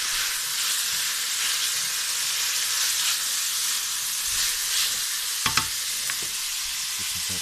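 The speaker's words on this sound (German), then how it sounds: "Alles einfach einmal schön anbraten" Steady crackling sizzle of peppers, garlic and onion frying in a hot pan, continuous and close, with a couple of brief clanks near the end.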